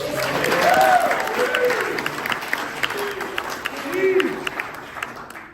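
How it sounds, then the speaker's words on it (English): Comedy club crowd applauding the waiter, moderate clapping and some cheers with voices talking over it, fairly distant and mixed with room chatter. "Give your waiter a round of applause."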